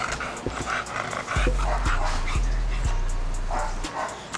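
Several dogs bark and yip around a kennel yard, a run of sharp barks close by over a constant low rumble, with people talking in the background.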